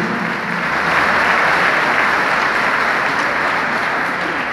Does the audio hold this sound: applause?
yes